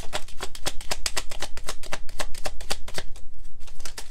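Tarot cards riffle-shuffled in a rapid, steady run of crisp flutters and snaps, close and loud, with no voices.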